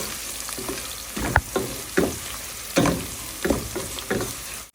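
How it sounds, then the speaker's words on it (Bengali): Spices frying in hot oil, a steady close sizzle punctuated by about six sharp bursts of crackle and stirring scrapes spaced roughly a second apart. "মশলাটা একটু তেলে ভেজে নেব"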